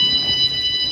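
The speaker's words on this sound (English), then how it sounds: "Oh, there's a fire alarm over here." Fire alarm sounding inside a building during an evacuation drill, a steady high-pitched electronic tone holding constantly throughout, fairly loud with low room noise beneath.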